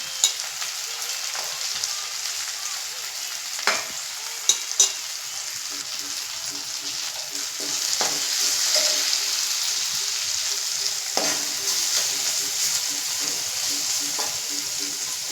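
Garam masala sautéing in a pan for a quick homemade egg masala, a steady close sizzle broken by a few sharp scrapes and taps of a spoon, no voices over it.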